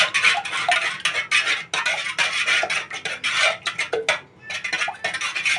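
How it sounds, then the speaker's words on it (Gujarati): Eggs are whisked with a utensil in a bowl for egg bhurji, producing rapid rhythmic clinking and scraping strokes that repeat steadily with brief pauses, close and clear, with no talk. "તો હવે આપણે આને ફેટી વાળશું આવી રીતે બધું મિક્સ કરી વાળશું"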